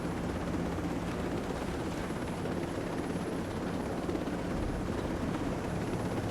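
In the video game Ghost Recon Breakpoint, a helicopter flies close by as a continuous loud rotor and engine roar, with a steady wash of noise throughout.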